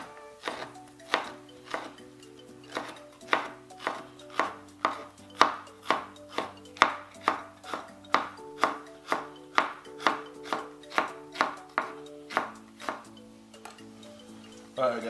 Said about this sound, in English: So basically I'm gonna julienne these bell peppers, real thin strips in there